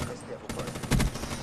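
Gunfire from Call of Duty Black Ops III in hardcore mode, loud dense bursts filling the short moment with a heavier blast near the end.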